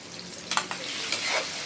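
Shrimp frying in a pan, a brief, close sizzle with a couple of quick scraping stirs over the crackling oil.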